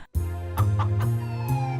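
Chicken clucks sound over a steady low hum, a few short squawky calls spaced apart, fairly close.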